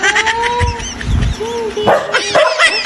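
A pet dog barks and yips angrily after its owner calls the household cats by name, the sharp barks mixed with whiny tones and the owner's voice calling between them.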